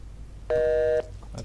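A phone call to a Telugu hospital call-in show disconnects with a single steady electronic beep lasting about half a second, clear against a quiet background.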